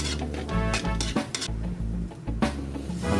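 Flaked milkfish is stirred in a pan for bangus sisig with red chili, the spatula scraping and clattering in quick bursts over a soft sizzle.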